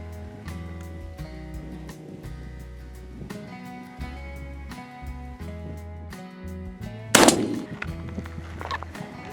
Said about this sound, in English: this is the very first shot